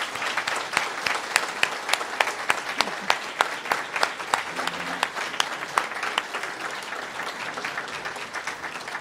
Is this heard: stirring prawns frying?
no